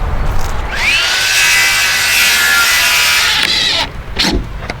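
A power drill spins up and bores steadily into old tight-grain hardwood on a chicken coop for a few seconds with a high whine, stops, then a couple of brief knocks follow.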